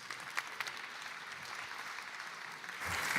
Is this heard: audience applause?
yes